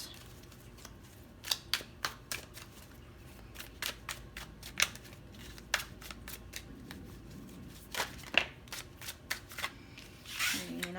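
Tarot cards are shuffled and drawn up close, with crisp papery snaps and riffles in irregular bursts, some sharper flicks and a soft sliding rustle near the end, quiet between strokes.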